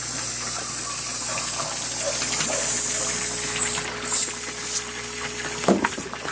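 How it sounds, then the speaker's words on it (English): Air leaks with a steady hiss from a water pump test rig that lifts water through 1-inch pipe more than 10 feet high. A constant pump hum runs under it, and there are a few knocks and bursts near the end. "Little air leak there."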